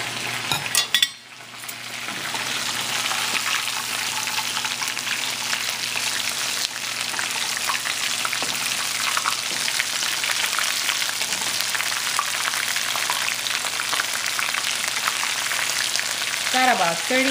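Shrimp tempura frying in hot oil, a steady loud sizzling crackle that continues throughout with no talking.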